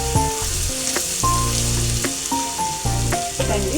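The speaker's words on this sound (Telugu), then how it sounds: "2 టేబుల్ స్పూన్ కారం వేసుకుందాం. ఒకసారి వేయించుకుందామండి." Two tablespoons of chilli powder fry in a pan for a Konaseema-style fresh small-fish curry, giving a steady hiss and sizzle under louder background music.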